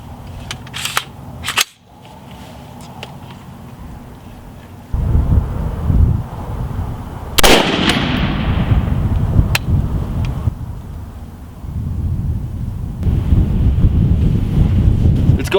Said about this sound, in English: We're gonna take our test shot and see how our zero is.